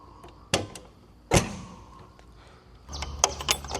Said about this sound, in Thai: ประตูก็ล็อกได้นะครับ